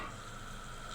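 Urad dal, chana dal, mustard seeds and cumin sizzle in hot oil as a faint, continuous frying hiss with no pauses.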